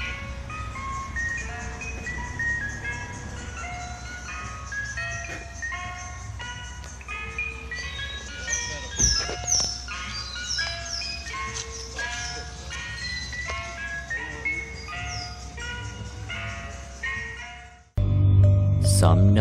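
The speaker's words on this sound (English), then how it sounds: "a broken music box in this Mr. Softy truck makes the music sound very creepy" A Mr. Softy ice cream truck's jingle plays from a broken music box with missing notes, giving a sharp, plinking, uneven melody that loops steadily for most of the stretch before a sudden low hum at the end.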